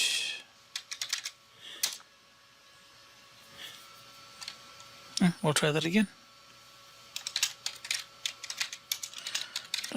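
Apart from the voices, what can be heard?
typing on a computer keyboard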